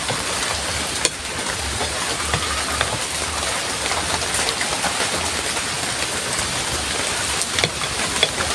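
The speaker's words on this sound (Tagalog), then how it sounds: "Tamang tama, umulan." Steady rain falls outdoors in a broad, even patter, close and moderately loud, with occasional heavier drops and no talking.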